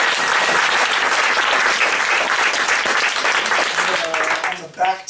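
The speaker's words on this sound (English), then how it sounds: "let's give a nice round of applause to Sibel" An audience at a spoken-word performance claps steadily in loud, sustained applause that fades near the end as a voice begins to speak.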